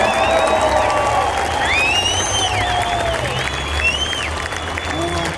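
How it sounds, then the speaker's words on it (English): Dense applause and cheering from a large crowd at an outdoor freedom rally, with whistles and shouts rising over the clapping and voices mixed in throughout. "Give them a big round of applause."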